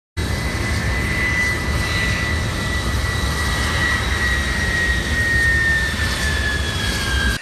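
A jet aircraft roars steadily and loudly through its landing at a London airshow, a constant near engine rumble with a slowly falling whine and no voices.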